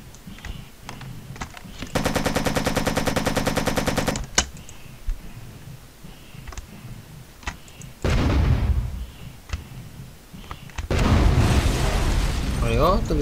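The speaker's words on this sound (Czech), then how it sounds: "Jde machine gun, machine gun." Machine-gun fire in the Operation Flashpoint video game's final battle mission: a loud, rapid sustained burst of a couple of seconds, followed by scattered shots and later rumbling bursts of heavy gunfire and explosions.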